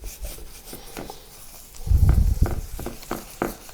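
Grout is rubbed by hand into a beginner's mosaic, making soft, gritty scraping strokes, quiet at first and then louder and rougher from about the midpoint, close by.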